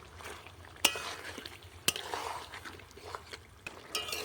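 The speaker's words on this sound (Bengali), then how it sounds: "এরপর ভালো করে কষাতে থাকবো।" Pieces of achari chicken with capsicum and green chilli are sautéed in a pan, a soft frying hiss broken by a few sharp metallic clanks of a spatula against the pan, with no talking.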